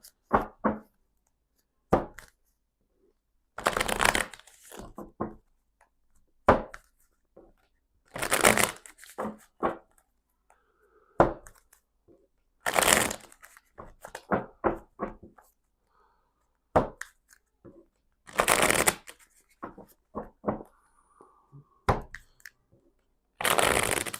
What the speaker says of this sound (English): The cards need to be shuffled, and I'm just shuffling